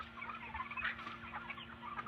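Chickens inside a gas-powered chicken tractor netted with trampoline mesh cluck softly and continuously, several birds murmuring at moderate distance over a faint steady hum.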